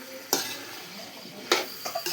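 Vegetables with tomato, ginger, garlic and spices sizzle in a pan for a meat and potato dish, a low steady fry broken by three or four sharp scraping stirs of a spatula, close up with no talk.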